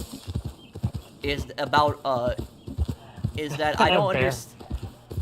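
A horse's hooves clip-clop at an even, rhythmic pace in the video game Red Dead Online, heard under someone talking over it.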